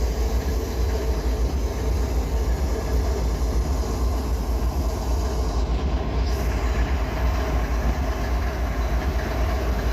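ES40DC diesel-electric switcher locomotive of 4,000 horsepower running on rails, a loud steady low rumble and drone close by, continuous throughout with no talk.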